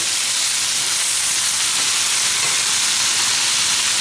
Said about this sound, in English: I'm going to put the tomato sauce in there and let it simmer for about maybe 45 minutes to an hour